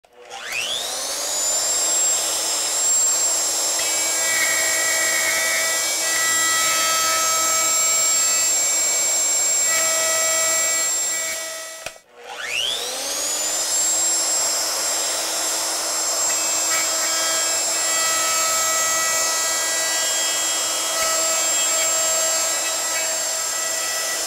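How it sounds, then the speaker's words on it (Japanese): A wood router bores a deep hole into a wooden workpiece, giving a loud, steady high-pitched motor whine with grinding cutting noise. It runs alone in two long passes separated by a brief stop. "ルーターで掘れました。"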